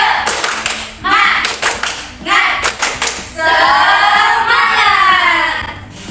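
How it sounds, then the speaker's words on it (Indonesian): Classroom of elementary schoolchildren performing a rhythmic spirit clap, groups of sharp claps in patterned bursts alternating with the children chanting together, loud and close. "Sebelum kita mulai, kita tepuk semangat dulu"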